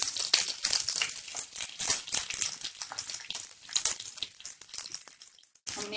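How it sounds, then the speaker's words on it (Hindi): Stuffed capsicums laid one by one into a hot frying pan sizzle and crackle in steady bursts, loud and close, fading to near quiet just before a final burst. "एक एक शिमला मिर्च को हम धीरे धीरे ऐसे डालते जाएंगे।"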